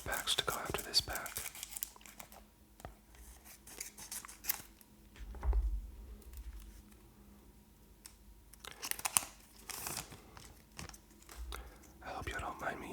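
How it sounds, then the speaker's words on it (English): Scissors snip through the foil wrappers of Pokémon Prismatic Evolutions trading card packs at close range. Soft crinkling and a few brief cutting bursts come through in a quiet, whisper-level setting. "I hope you don't mind me using the scissors. It's a lot easier and a lot quieter to cut than to pull everything."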